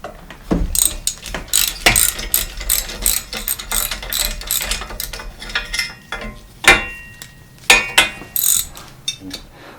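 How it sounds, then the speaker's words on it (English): A ratchet wrench clicks in quick bursts while the kickstand is removed from an old cruiser bicycle during a teardown, with sharp metallic clacks and clanks of tools and parts between the ratcheting runs, close and fairly loud. "Next, we're going to remove the kickstand."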